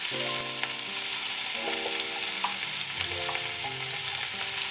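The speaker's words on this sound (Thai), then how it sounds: "ใส่หมูผัดกิมจิลงไป ทำด้วยกุยช่าย" Kimchi pork and garlic chives stir-fry in a hot pan, a constant crackling sizzle with quick scraping and tossing strokes of the utensil, close and loud.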